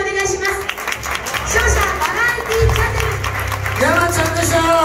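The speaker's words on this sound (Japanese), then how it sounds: "皆さん大きな拍手をお願いします" A boxing event crowd applauds after the match, a steady wash of clapping with music and chatter running underneath throughout.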